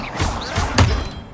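A single Expelliarmus spell impact in Hogwarts Legacy lands as a dull, heavy thud partway through, amid a softer background of spell whooshes and low rumble.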